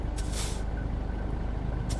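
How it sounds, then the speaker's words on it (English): Air brake release on a truck in American Truck Simulator: sharp hissing bursts of escaping air over a low idling engine rumble, a long hiss early and a shorter one at the end. "Release the brakes here."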